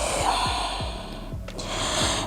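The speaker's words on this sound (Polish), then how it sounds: "Głęboki oddech." During a yoga session, a slow, airy deep breath sits over soft background music that pulses gently underneath. The breath is close and moderately quiet, with a brief audible catch partway through.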